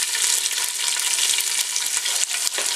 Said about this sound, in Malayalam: ഇനി ഇതിലേക്ക് നമുക്ക് സവാള ചേർക്കാം.